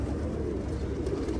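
Soft, low cooing from Basrawi pigeons rolls on steadily at close range over a faint hiss, with no voices present.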